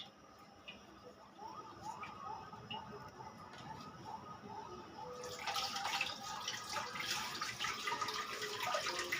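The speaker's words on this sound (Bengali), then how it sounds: "শারমিন পেঁয়াজ পাতাগুলো একটু ধুয়ে দে।" Onion leaves being washed in a home kitchen: quiet clicks and drips give way halfway through to a steady rush of running water, close and moderately loud.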